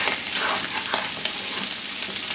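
Sausage frying in a pan, a steady close sizzle and crackle of fat with a few brief stirring scrapes, no voices.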